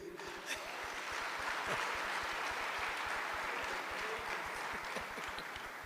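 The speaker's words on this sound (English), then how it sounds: "A round of applause for Free State." Applause for the Free State delegation at a South African G20 gathering, a steady broadband wash of clapping sustained throughout, with a low rhythmic thumping underneath and voices faintly mixed in.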